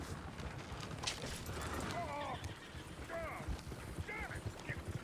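Horses whinny several times in quick succession amid hoof clatter and background voices in Red Dead Redemption 2, fairly faint and mixed into a busy scene.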